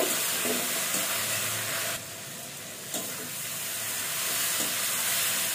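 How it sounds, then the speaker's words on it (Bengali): Potatoes sauté in a pan with spices, red chili powder and ground cumin, giving a continuous close sizzle and hiss with brief stirring scrapes and a short dip in loudness midway. "লাল মরিচ গুঁড়ো 1 চামচ, মশলাটা দিয়ে আলুগুলো ভালোভাবে কষিয়ে নেব।"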